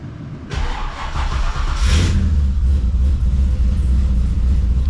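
A Holden VL Calais fitted with an LS1 V8 and a Haltech ECU cranks and catches, then revs up sharply once before settling into a loud, rumbling idle close by.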